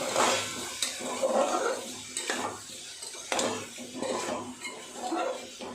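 A spoon stirs chicken stew in a pot after black pepper goes in, making repeated scraping strokes over a soft sizzle, with rhythmic bursts of clatter against the pot.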